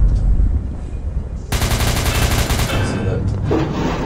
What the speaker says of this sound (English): he's gonna shoot the guard